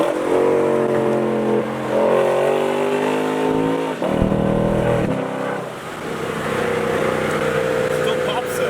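Lexus RC F exhaust fitted with titanium Lexon mufflers, giving a loud, close, continuous engine roar that rises and dips in pitch as it revs, with people talking over it.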